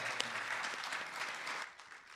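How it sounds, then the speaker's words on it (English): A live audience at a Masked Singer karaoke event gives the judges a round of applause, a brief burst of steady clapping that fades out quickly after a second and a half. "Let's give them a round of applause."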